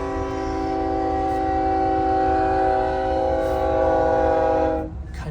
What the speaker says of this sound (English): This choo-choo train's been sitting there for who knows how long, and then just decides to go when I pull up.